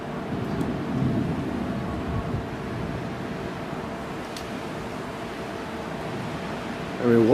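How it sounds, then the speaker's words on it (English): Low thunder rumbles through a storm, a broad steady roar that swells near the end, with faint speech-like sound underneath. "That was the first sound of thunder I've heard."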